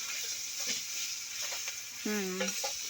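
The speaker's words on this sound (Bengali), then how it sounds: "দেখুন এবার তেলেতে আমরা তেজপাতা দিয়েছি আর পেঁয়াজ দিয়েছি, দিয়ে এবার ভাজা করছি আমরা" Onion and bay leaf fry in hot oil with a steady, close sizzle and occasional stirring scrapes, and a brief voiced sound rises near the end.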